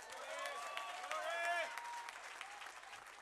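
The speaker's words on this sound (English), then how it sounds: "Come on, clap hands for yourselves." A church congregation at a Harare convention claps hands in a steady, dense wash of applause, with voices calling and singing over it throughout the short stretch.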